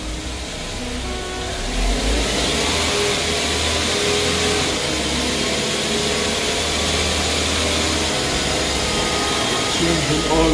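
A Chevy Spark with a freshly rebuilt transmission pulls away from a standing start, its small engine droning steadily louder as it revs and accelerates, a continuous close-up roar with road and cabin noise and no talking over it.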